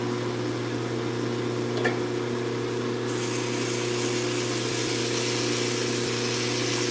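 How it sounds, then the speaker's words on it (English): A belt grinder running at low speed while a knife is finished, a continuous steady motor hum with a brief scrape, then a brighter grinding hiss from about the midpoint, close and without talk. "you go faster with a higher grit belt, and it'll get hot faster"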